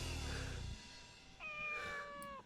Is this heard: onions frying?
no